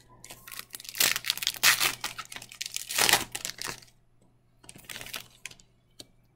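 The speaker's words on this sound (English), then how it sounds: "Cut this one in the middle here." A 2018 Bowman baseball card pack wrapper is cut open with close, crisp crinkling and tearing of foil in uneven bursts, followed by a pause and a few lighter rustles, with no talking.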